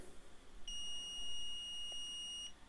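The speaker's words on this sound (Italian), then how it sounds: "Ora farà un bip più lungo." A single long, steady high-pitched electronic beep from SWANSOFT 8605 battery-powered pruning shears, sounding for about two seconds against a quiet background.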